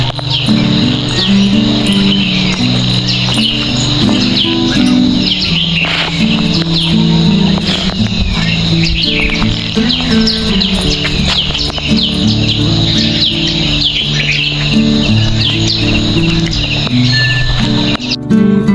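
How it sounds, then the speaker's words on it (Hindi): Birds chirp in the early morning at a mountain village, a dense, continuous and loud chorus of tweets layered over a steady background hum. "बस मैंने डोर खोला और चिड़ियों की चहचहाट"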